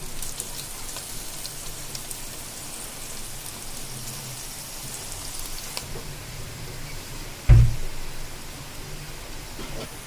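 Crushed ginger-garlic paste frying in coconut oil for a Kerala-style veg fish kuzhambu, a steady close rain-like sizzle throughout with one brief louder clatter near the end, no talking.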